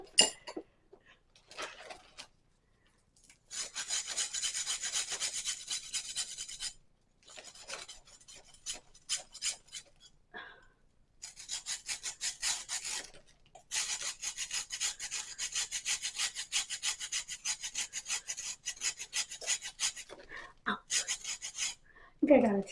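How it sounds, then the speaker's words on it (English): Whole nutmeg rasps against a grater in long runs of rapid scraping strokes, broken by brief pauses and a few clinks, close and fairly loud, for spiced pumpkin cupcakes. "So I need to grate a teaspoon of this."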